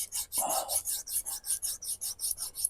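A knife rubbed back and forth on a flat surface gives a quick, rhythmic rasping scrape, around a dozen short strokes close up, with one brief louder scuff early on.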